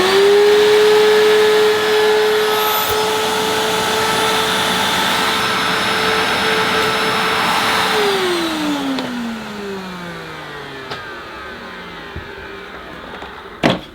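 A vintage Philips P99 vacuum cleaner hums steadily and loudly at close range, its motor tone holding level for about eight seconds before winding down and fading out, with a small clunk at the end.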